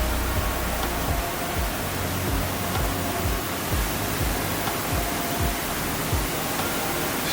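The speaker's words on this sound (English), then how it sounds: "We are apparently getting closer as we can hear the falls in the background." A waterfall in the Flume Gorge, New Hampshire, sounds as a steady, dense roar of rushing water that fills the scene evenly, with faint low thuds underneath and no voices.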